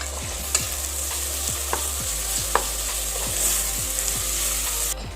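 Tomatoes frying with a broad steady sizzle in a pan for mushroom biryani, while a spoon stirs repeatedly in a regular scraping rhythm and a few sharp clinks stand out, close and fairly loud with no talking.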